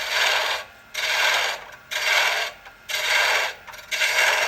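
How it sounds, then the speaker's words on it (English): A spindle gouge wastes away wood on a lathe while turning a honey dipper, cutting in five loud, rasping passes of about a second each, with short quiet gaps between them. "I'm using my spindle gouge along the bevel to waste away the wood"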